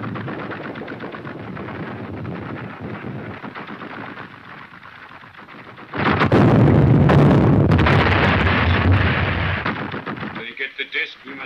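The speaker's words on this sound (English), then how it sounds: "You mean that you're going to run through that shell fire?" Shell fire and gunshots in an old film serial: a dense, rumbling barrage of artillery and gunfire under speaking voices, swelling into a louder, closer burst of explosions midway before breaking up into scattered reports.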